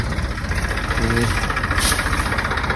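A tractor engine chugs steadily at idle, its low rhythmic knocking running throughout, with voices faintly in the background.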